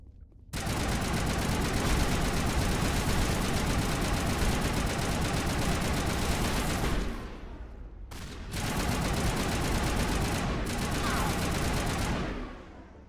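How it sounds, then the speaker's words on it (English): Full-auto Kolyov fire in Mass Effect Legendary Edition: two long, loud, rapid bursts of gunfire close up, the first lasting about six seconds, then a short pause and a second burst of roughly four seconds. "Kolyov was a full auto weapon."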